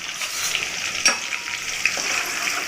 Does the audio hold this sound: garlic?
yes